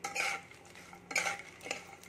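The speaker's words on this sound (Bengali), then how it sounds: "এগুলো এবার আমি একটু হালকা করে ভেজে নিই" Peanuts, garlic cloves and dried red chilies fry lightly in a pan, heard as soft, faint sizzling broken by three quick scraping stirs of a utensil against the pan, close by.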